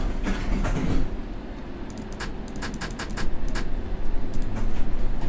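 Circle Line train departing in a railway simulator game: a steady rumble of motor and rolling stock builds up, with a run of sharp clicks and clacks from wheels or mechanisms partway through, and no talk.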